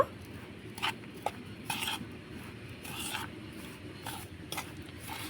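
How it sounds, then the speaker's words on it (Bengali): Semolina, coconut and milk stirred together for a sweet filling, giving a soft gritty scraping and rubbing with a few sharper utensil scrapes against the pot, steady and close with no talk. "একটু সব কিছু ভালো করে মিশিয়ে নেব"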